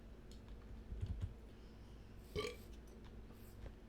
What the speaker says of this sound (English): Well, that was a burp.